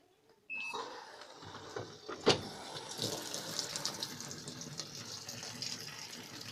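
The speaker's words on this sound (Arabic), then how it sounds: "نملاها نصب مية اقل حاجة" Water gushes steadily into the drum of a Universal washing machine being filled, starting abruptly and continuing as a close, even rushing stream with a brief louder splash early on.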